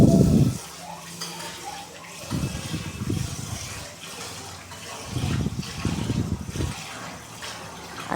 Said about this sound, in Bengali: চলো এদিকে চালটাও একটু ধুয়ে নিই।